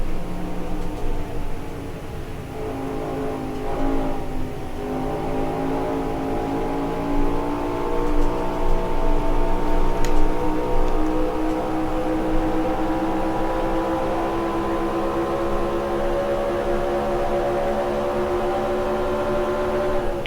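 Race car engines in the NASCAR Racing 2003 game, 1971 Pennsylvania 500 at Pocono, drone steadily at close range, a sustained multi-toned roar that climbs gradually in pitch with no voices.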